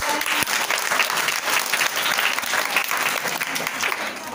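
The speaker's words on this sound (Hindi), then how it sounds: "तो तालियां बज जाएगी" Loud, dense applause from an audience at a science demonstration show, many hands clapping continuously and evenly throughout, with some crowd voices mixed in.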